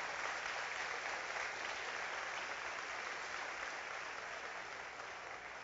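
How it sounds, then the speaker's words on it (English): A room full of teachers at a superintendent's welcome address gives sustained applause, a dense, even wash of clapping heard from a distance that fades slightly toward the end. "Give yourself a round of applause."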